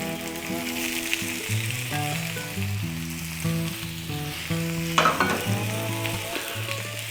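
Damp potatoes spread onto a hot Blackstone griddle crackle and sizzle loudly and steadily, with scraping turns, while background music plays throughout.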